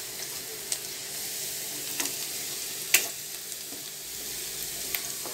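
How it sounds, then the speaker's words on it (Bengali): Chopped onion frying in a pan over medium-high flame, a steady soft sizzle with a few faint clicks of stirring, no voices. "পেঁয়াজটা একটুখানি ভেজে নেব ভালো করে"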